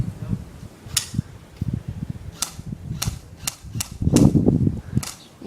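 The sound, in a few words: airsoft guns firing during an airsoft game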